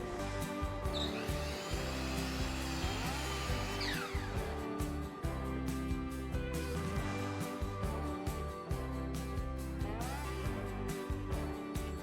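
A drum sander running a pass over a glued-up wooden cutting board, giving a steady, loud machine whine and grinding drone that holds for the whole stretch.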